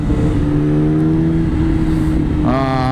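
A Yamaha R6 motorcycle engine hums loud and close at a steady pitch, then revs sharply with a rising, buzzing whine near the end.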